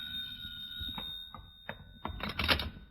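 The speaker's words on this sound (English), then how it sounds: "the telephone rang." A telephone rings in an old radio comedy scene, a faint bell jangling in short bursts over a quiet background, growing louder toward the end.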